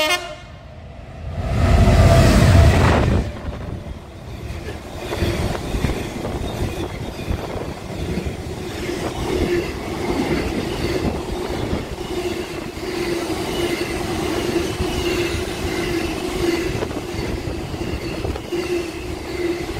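Freight train roaring through Rugeley Trent Valley station, loud and close, with a brief strong horn-like burst near the start, then a sustained rumble and steady tonal drone as the wagons pass.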